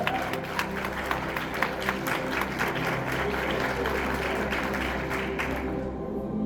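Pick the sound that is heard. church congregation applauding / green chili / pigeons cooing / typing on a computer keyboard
church congregation applauding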